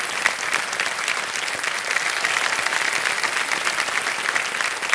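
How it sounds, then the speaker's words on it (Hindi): A studio audience on an Indian TV quiz show applauds, a dense, steady clapping that fills the room with no break. "तालियां बज जाए श्रुति के लिए।"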